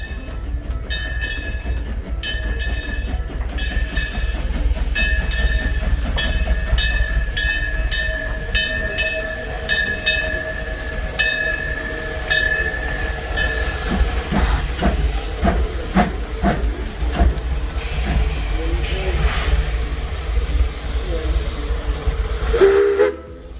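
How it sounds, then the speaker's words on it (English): A steam train passes at Silver Dollar City amusement park, its steady hiss and rolling rail clatter running throughout, with a sustained steam whistle sounding over the first half and rhythmic wheel thumps building toward the end. "Here comes the train."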